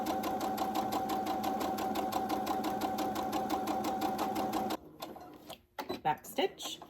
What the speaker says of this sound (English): We're going to sew 1/8 of an inch away from the edge